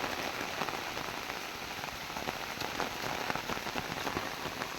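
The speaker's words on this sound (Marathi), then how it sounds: "मरणाचो पडता मरणाचो पाऊस जोरदार पडताय" Heavy rain pours down steadily on a path used for herding cattle, a dense, continuous hiss with dripping patter, loud and unbroken throughout.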